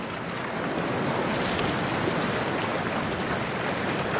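Cold water and waves in Cyberpunk 2077 wash and surge in a steady, loud, broadband rush, with some wind noise mixed in and no voices.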